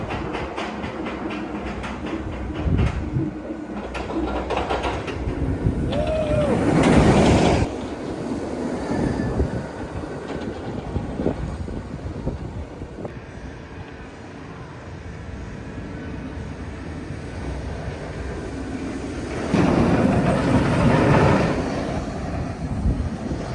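A train rumbles past nearby at Dorney Park amusement park, with rattling wheels and gusts of wind buffeting the microphone, growing louder at moments before easing off.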